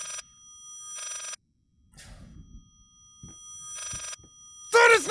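Old-fashioned telephone in the horror game Layers of Fear, two bursts of shrill electronic ringing separated by pauses and a few faint rustles, followed by a sharp eerie screech at the end.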